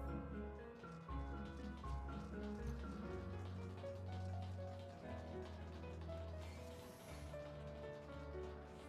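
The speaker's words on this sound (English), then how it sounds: "Raining again." Steady rain falls in Final Fantasy XIV during a dungeon run in the Weeping City of Mhach, a continuous soft patter beneath layered game music and ambience, with no talking.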